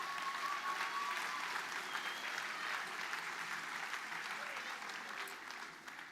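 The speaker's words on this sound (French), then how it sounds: "Vous pouvez les applaudir." A ceremony audience at a Pontault-Combault New Year's wishes event claps in sustained, dense applause throughout, steady and moderately distant before easing slightly near the end, with some faint voices mixed in underneath.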